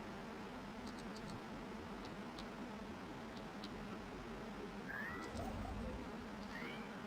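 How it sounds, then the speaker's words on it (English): A cat meows faintly a few times in the background, thin short cries over a steady low noise floor, with no one speaking. "I hear you, cat."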